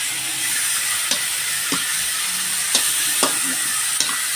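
Vegetables frying in a pan with oyster sauce and soy sauce for pancit canton, a steady loud sizzle with a few distinct spatula scrapes spaced about half a second to a second apart.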